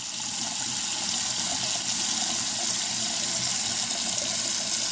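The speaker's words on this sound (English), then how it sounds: "The water is running." Water pours steadily into a sink in a constant, loud, close hissing rush that never changes, with no voices.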